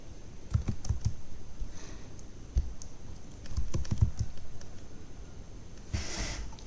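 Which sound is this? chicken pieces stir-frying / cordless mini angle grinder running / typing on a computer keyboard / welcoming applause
typing on a computer keyboard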